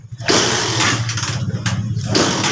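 A Honda TMX Alpha motorcycle with hard-starting trouble, its engine cranking and sputtering loudly up close in one continuous rough, uneven run without catching cleanly.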